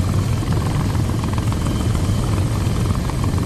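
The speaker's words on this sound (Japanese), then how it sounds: "この音は、まさしくヘリコプター" A helicopter in the VR flight simulator game World Flight on Meta Quest drones loudly and steadily, its rotor chop and engine rumble filling the whole stretch with no letup, close and dominant.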